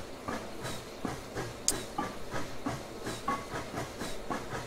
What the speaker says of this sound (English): Oh, the steam's so cool.